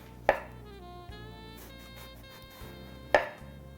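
A knife slicing through a whole eggplant to make fan-shaped cuts, two distinct close thuds against a cutting board about three seconds apart, with quiet background hum between.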